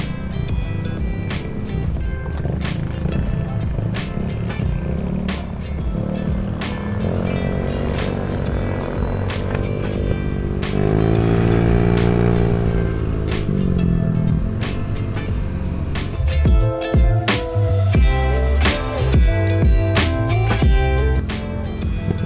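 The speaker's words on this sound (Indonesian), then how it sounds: "Ini yang ikut kayaknya hampir 100 motor nih, lumayan banyak juga." A large group of nearly 100 motorcycles rides together on a road toward Pangandaran beach, a steady loud engine drone with rising and falling revs and passing bikes close by, no talking.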